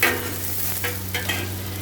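Onions sizzle steadily in a giant pot while a spoon scrapes and stirs through them in several distinct strokes, close and loud, with no talking.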